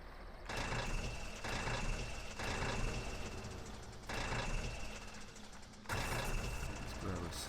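A semi truck reverses in the Farming Simulator 17 farming game, its backup alarm beeping in steady on-off bursts over a loud engine drone and mechanical clatter.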